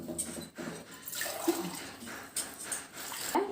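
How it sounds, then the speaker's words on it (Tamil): Water is poured into a cooking pot of goat intestines, splashing and gurgling unevenly in close, short bursts. "வேக வைக்க தண்ணி ஊற்றிக்கலாம்."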